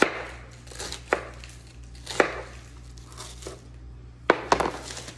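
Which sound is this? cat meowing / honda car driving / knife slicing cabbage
knife slicing cabbage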